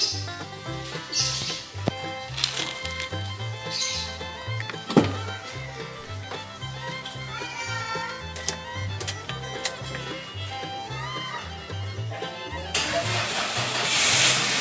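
A car with a weak battery cranks and then catches, its engine running up to a steady idle nearby, with some clicks and rustling around it.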